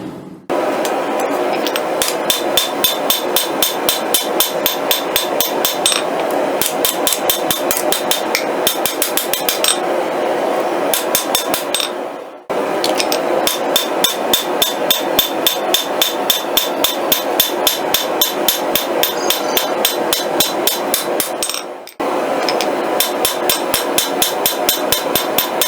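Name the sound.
hammer forging a Bowie knife blade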